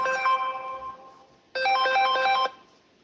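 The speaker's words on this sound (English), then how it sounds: "Take out your phone now and call Mr. Patmore" A phone ringtone for an incoming call plays a bright electronic melody in two bursts separated by a short pause, clear and close with no talking.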